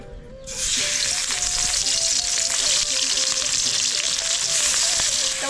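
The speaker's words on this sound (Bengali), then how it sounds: "তেল গরম হয়ে গেছে মাছগুলো ভেজে নেবো" Turmeric- and salt-coated fish pieces hit hot oil in a village kitchen, bursting into a loud, dense, continuous sizzle up close that holds steady without talk.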